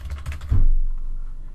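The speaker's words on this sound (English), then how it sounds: "you can type in your institution's name" Brief burst of computer keyboard typing, a few light clicks in quick succession, ending in a soft thump before near silence.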